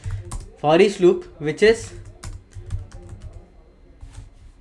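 Typing on a computer keyboard while writing Java code, a run of quick clicks and taps that continue beneath someone talking and carry on after he stops.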